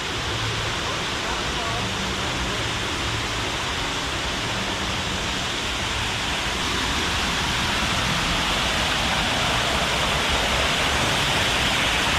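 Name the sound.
waterfall in gorilla enclosure at Busch Gardens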